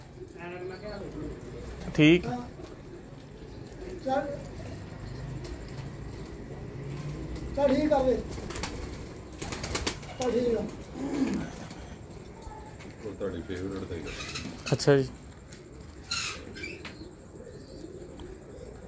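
Pigeons cooing in a breeder's loft, repeated soft throaty coos with bursts of wing flapping scattered throughout, close by, while people talk intermittently.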